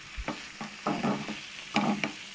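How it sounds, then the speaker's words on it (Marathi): Chilli sauce is stirred and mixed in a pan for a Goan non-veg dish, giving several close, short scraping and sizzling strokes in an uneven rhythm, with no talking. "हे पळय हे सगळें बरें मिक्स करून घेवंक जाय"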